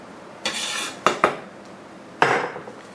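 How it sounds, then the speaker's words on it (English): Knife chopping fresh garden basil into a chiffonade on a cutting board, a few close, separate crisp strokes: one longer slicing run, then two quick taps, then another longer cut. "Just going to make a little chiffonade here."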